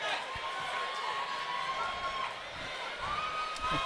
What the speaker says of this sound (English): The crowd is very, very vocal